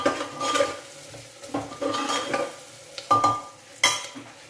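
Red chili powder and turmeric stirred and roasted in a pan for a pumpkin sabzi, heard as scattered spoon scrapes and metallic clinks against the pan over a soft, low sizzle.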